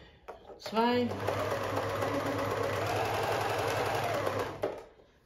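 A Pfaff 1525 sewing machine runs a stretch stitch program with a steady, close mechanical whir and rapid needle chatter for about four seconds, starting after a short whine and stopping abruptly.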